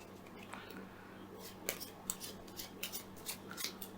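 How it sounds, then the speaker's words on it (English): Board game cards for a post-apocalyptic battle royale game are shuffled by hand, giving soft, quiet riffling and papery snaps over a low background hum. "And the rest you shuffle."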